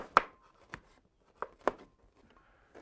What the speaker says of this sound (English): Now, chop the garlic and become an Italian diner for the next 2 days.